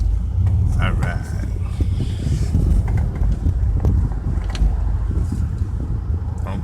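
Cabin noise from riding in a Honda Accord with an F20B engine swap: a steady low engine and road rumble with wind, loud and continuous, while people talk inside.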